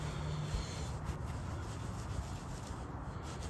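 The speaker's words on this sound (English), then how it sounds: "So I might just be polishing the clear coat now." Clear coat being polished by hand on a repainted area of a 2010 Ram truck, giving a steady, continuous close rubbing and scrubbing sound with no pauses and no talking.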